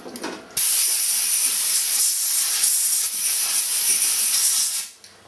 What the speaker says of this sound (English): Clean it off with a bit of brake cleaner.